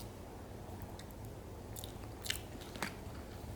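Quiet, close chewing of a salad with hummus, a few soft crunchy bites standing out against a low steady background hum, no talking.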